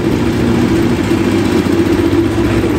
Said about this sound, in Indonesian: Ini kurang lebih kayak suara traktor seperti yang saya bilang tadi itu.